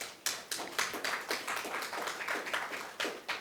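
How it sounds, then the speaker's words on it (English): A round of applause welcomes a Taiwanese wood sculpture workshop facilitator, with sharp, sparse claps ringing out in an uneven rhythm across a small room, fairly close and moderately loud, with no talking. "Can you give him a round of applause?"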